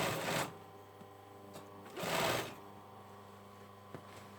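Sewing machine running in two short bursts while stitching the lining of a hoodie hood (Burda 6315) to the outer fabric at the neckline, with a quiet pause between and faint clicks after.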